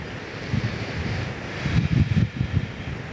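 Strong wind blowing along the coast, buffeting the microphone in continuous rumbling gusts with a surf-like roar, loud and close, swelling and dropping in strength, no voices.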